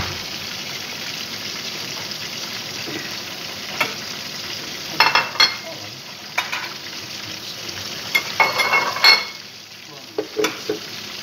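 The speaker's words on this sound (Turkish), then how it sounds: "tek tek bunu kızgın yağda kızartacağız hafiften hafiften" Meat sizzles and crackles in hot oil, with occasional stirring clatters and louder bursts of spitting toward the end.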